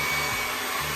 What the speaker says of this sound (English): definitely using my dryer on the lowest blow, the highest heat, and really dry that hair